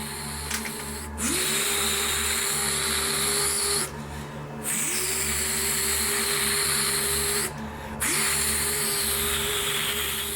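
Snapper lawn mower engine idling after a carburetor adjustment, a steady close hum broken by three rising revs that each settle into a sustained higher drone, with no speech.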